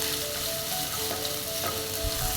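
Chopped ginger sizzles steadily in hot oil in a pan while hotel-style pepper chicken is cooked at home, a close, even, moderately quiet crackle with no voices.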